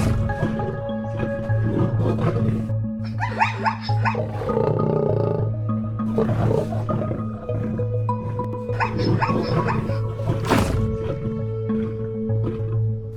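Lions roar at night in the wild, deep repeated calls rising and fading over a steady low rumble, some roars close and loud, others overlapping from farther off.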